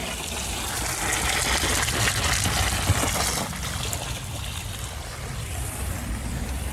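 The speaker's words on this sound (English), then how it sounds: "there we have water going to waste." Water runs to waste from an OASE BioTec ScreenMatic pond filter at a fishless pond, a steady broadband rush and splash that holds at an even level throughout with no voices over it.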